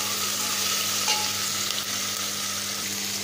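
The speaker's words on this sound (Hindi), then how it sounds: "देखिए हमारा प्याज अब थोड़ा सा भून चुका है" Onion fries in a pan with a steady, soft sizzle that runs unbroken throughout, with a couple of faint utensil touches along the way and no talking.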